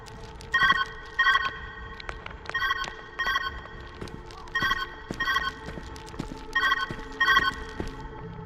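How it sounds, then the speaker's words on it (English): Telephone ringing in the View Finder video game, a bright bell-like ring in paired bursts repeating at a steady rhythm, loud and close, with faint footsteps beneath and no talking. "Where's that ringing coming from?"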